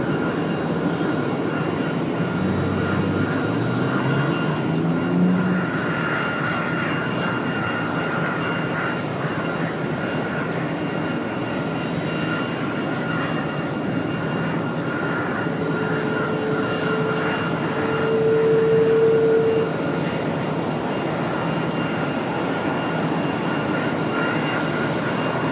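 Air France airliner jet engines at Raleigh-Durham International Airport produce a steady, loud roaring whine with a faint rising tone midway, continuous for the whole stretch and without talking.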